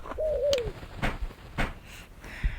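Pigeon cooing in the video game SC2, a single soft rising-and-falling coo near the start, followed by a few sharp clicks and thumps from the game against a quiet background hum.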